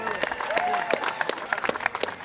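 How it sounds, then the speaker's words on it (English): An outdoor rally crowd at Liberty State Park breaks into applause, a brief burst of clapping heard from a moderate distance, with faint voices and cheers mixed in. "Everyone give Sam Peston a round of applause."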